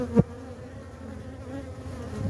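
Honey bees buzz inside a hive during an inspection, a steady close drone with a brief knock or handling thump at the start.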